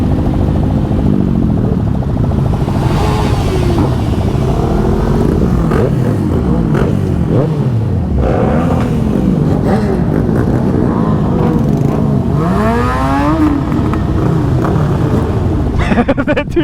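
Several motorcycles ride together in a group, including a 2021 Yamaha MT-09, with continuous loud engine drone and repeated revving swells and gear changes throughout, close and steady, with talk mixed in.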